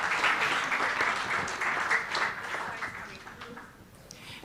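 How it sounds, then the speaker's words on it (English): An opening-ceremony audience claps for a panel, a full round of applause that is strong at first, then thins and fades toward the end, with faint voices mixed in. "One more round of applause for Dr. Inez and her panel"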